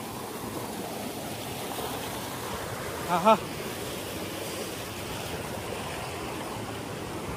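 Steady rushing of a flowing stream, a continuous broadband wash of water during a rainy outing, with a brief spoken exclamation partway through.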